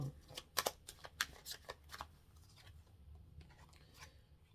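A tarot card is drawn from the deck and laid down, producing soft papery snaps and slides with a few sharper flicks early on, quiet and close, with no talking.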